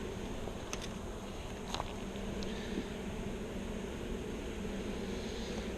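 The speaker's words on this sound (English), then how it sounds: "we got a pretty good population of bees in the nuke" A dense, steady hum of many honey bees buzzing close by in a nucleus hive, with a few brief higher-pitched whines from individual insects passing.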